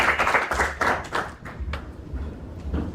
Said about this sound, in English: Can we just clap for that vision?